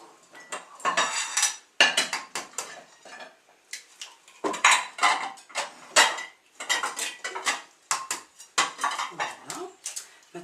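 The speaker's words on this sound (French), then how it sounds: "Tu vas t'occuper toi de casser 5 œufs dans ce bol que tu vois là. Et tu vas me battre tout ça." Eggs being beaten in a bowl for a Portuguese-style dish, a whisk or fork clattering against the dish in repeated quick bursts with short pauses between them, close and fairly loud, with no one talking over it.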